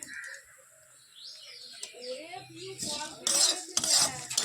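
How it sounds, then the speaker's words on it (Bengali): Puffed rice being fried in a little oil in a home kitchen, with scraping and clinking of a utensil against the pan that grows into louder sizzling bursts toward the end, and faint bird chirps in the background. "মুড়িগুলো গেছে নরম হয়, তা ভালো একটু তেল দিয়ে ভেজে নিই"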